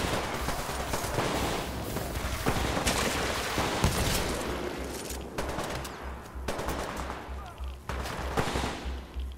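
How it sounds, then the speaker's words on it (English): Dense rapid gunfire fills a Titanfall 2 firefight, with bursts of automatic shots and heavy booms layered together. It is loud and continuous, with a few voices faintly underneath. "Shut up and keep firing."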